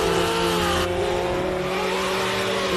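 A race car at a hill-climb event roars loudly and continuously at close range, its engine note shifting as it revs, with a deep rumbling low end throughout.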